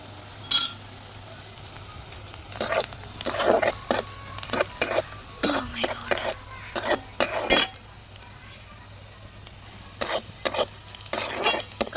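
Onion frying in a pan while being stirred for vada pav, a low steady sizzle broken by repeated bursts of metal spoon scraping and clinking against the pan, close up with no voices.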